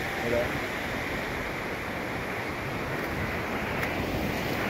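Ocean surf at Kalamb beach rolls in as a continuous broad wash of waves, loud and steady with wind noise on the microphone, and no voices standing out.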